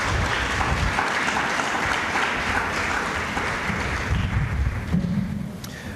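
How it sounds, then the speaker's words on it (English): A morning audience at a school gathering gives sustained, loud applause for students, the dense clapping rolling steadily for several seconds with a few low voices mixed in. "Let's give them a round of applause this morning."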